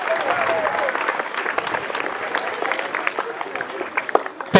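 An audience gives warm applause for the students at a gathering with local authorities present, dense clapping that carries on for several seconds and swells again near the end.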